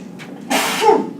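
A single sharp sneeze bursts out in a quiet executive committee meeting room, loud and close, preceded by a brief intake of breath.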